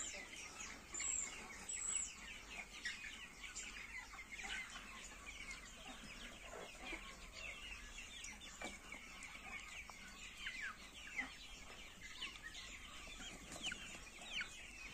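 Hens cluck softly and intermittently in a quiet barnyard, faint and somewhat distant, with scattered bird calls around them.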